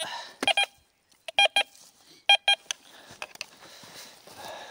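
A metal detector sweeping an old farm field signals a find with sharp electronic beeps in pairs, repeated three times, followed by faint rustling and handling noise.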